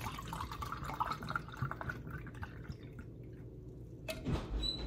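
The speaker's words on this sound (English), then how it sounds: "I'm just gonna pour me a little bit of this one." Wine poured from a bottle into a glass during a wine tasting, heard as a close, faint trickle and gurgle of liquid that tapers off, followed by a brief clink near the end.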